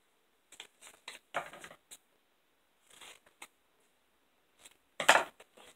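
Paper planner sticker trimmed again with scissors: scattered short snips and rustles spaced apart, close and fairly quiet, with one sharper louder cut near the end.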